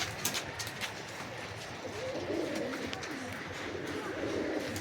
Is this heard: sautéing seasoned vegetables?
no